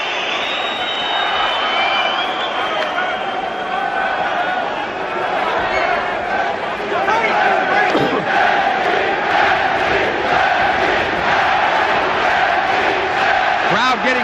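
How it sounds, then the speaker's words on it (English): A boxing arena crowd roars and chants in support of Henry Maske during his fight with Egerton Marcus, a loud sustained wall of cheering with rhythmic chanting swells, and a commentator talks over it. "Crowd getting very much behind Henry Maske."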